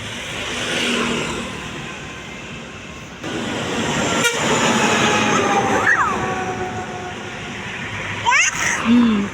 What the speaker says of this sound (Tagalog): Ayan ang truck ko.